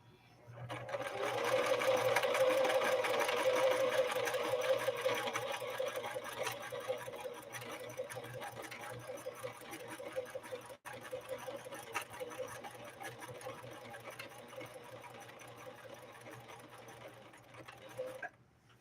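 A Husqvarna Model 145 sewing machine stitches ribbon material in a fast, steady mechanical whir with rapid needle ticking, loud at first and then slightly quieter, running continuously with one brief hitch.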